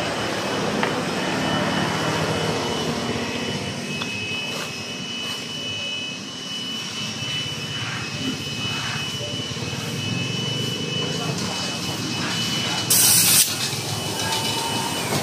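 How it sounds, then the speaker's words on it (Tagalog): A steady, loud hiss of compressed air blows continuously as an air compressor inflates the front tire of a Suzuki Samurai 155 motorcycle, with a short sharper burst near the end. "Lagyan na rin natin ng hangin yung harap."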